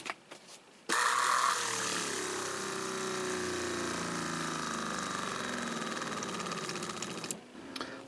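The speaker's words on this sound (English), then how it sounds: "I'll turn the pump on and I'll check it for leaks." A Seaflo RV water pump is switched on and runs with a steady, loud mechanical drone and whine for several seconds before cutting off, with no talking.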